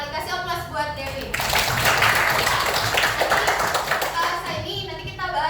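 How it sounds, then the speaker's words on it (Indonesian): Students in a classroom burst into applause for a classmate, a dense patter of many hands clapping for about three seconds, with children's voices talking before and after. "Kasih aplaus buat Dewi."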